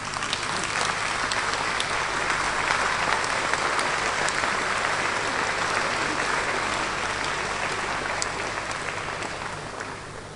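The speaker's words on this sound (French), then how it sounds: "je leur demande de se lever et de vous acclamer de toute leur force" A standing audience of teachers and researchers in Gabon applauds, steady dense clapping from many hands, loud and sustained throughout, fading slightly at the end.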